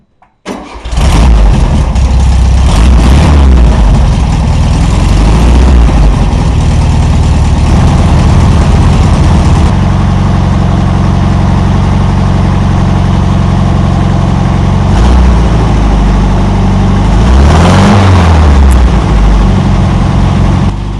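Air-cooled VW Beetle engine cranking briefly, then firing up and running steadily on fuel from the carburetor bowl, loud and close, with a couple of surges in revs and no talking.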